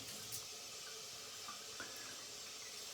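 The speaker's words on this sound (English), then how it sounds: "I'm wetting the face" Water splashing onto a face before a wet shave, a soft, steady wash of running water at low volume with a few small splashes, no voices.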